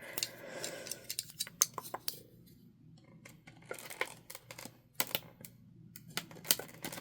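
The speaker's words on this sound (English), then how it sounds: "this is a Sunstar Stationery corner puncher" A Sunstar Stationery corner puncher clicks and snaps through paper in a series of sharp, irregular crisp clicks with rustling between them, close and fairly quiet, with no voices.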